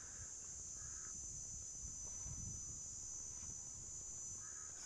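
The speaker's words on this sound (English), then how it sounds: "where I can hear that crow squawking" A crow caws a few times in short, hoarse bursts from some distance in an open natural setting, over a steady high insect drone and faint wind.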